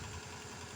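A Kubota R180 diesel engine idles with a steady, even low rumble and light vibration after a head gasket replacement, heard briefly and up close with no one talking.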